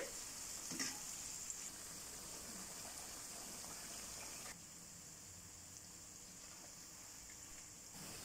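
Small onions frying in oil in a pan until golden, a soft, steady sizzle with faint hiss that continues unbroken and drops slightly in level midway, quiet and without talk.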